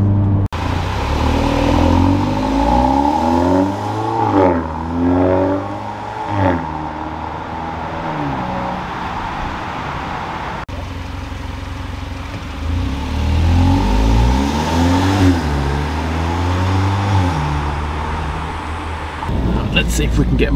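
A Hyundai i30 N-Line with an Xforce catback exhaust revs twice, each time rising sharply then falling back to a deep, steady idle rumble, loud and close.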